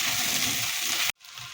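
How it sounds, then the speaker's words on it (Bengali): Chopped tomatoes and green chillies go into a hot pan with a loud, broad hiss that holds steady for about a second. It breaks off abruptly, then a quieter sizzle returns. "কেটে রাখা টমেটোর পিসগুলো আমি এখানে দিয়ে দিব"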